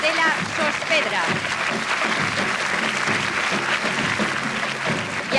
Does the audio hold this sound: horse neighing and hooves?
no